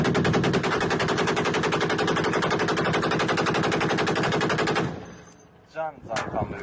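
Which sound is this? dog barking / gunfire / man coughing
gunfire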